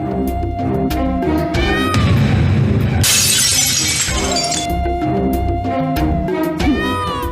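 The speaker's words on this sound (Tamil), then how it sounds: "முதல்ல இந்த போட்டோவை உடைக்கணும்." A photo frame shatters in a sudden burst of breaking glass, loud and close, surrounded by a dramatic music score with swooping tones; no talking.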